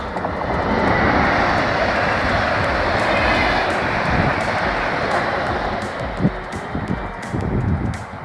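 A low, broad rumble rolls on steadily for several seconds, like a train passing at some distance, with a few faint knocks near the end.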